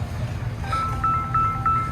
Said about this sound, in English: That's the phone again